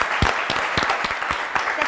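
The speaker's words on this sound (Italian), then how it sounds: "Grazie, applausi a voi." Scattered clapping from a small group at a TV quiz show, with sharp irregular claps over a steady murmur of background noise.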